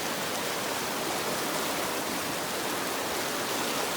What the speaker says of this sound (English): That water's moving pretty fast.